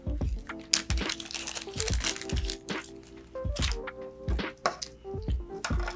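A plastic bag of quarter-20 screws for an Ikelite underwater housing is opened, with bursts of crinkling and crackling plastic and small clicks and taps of handling, close and irregular.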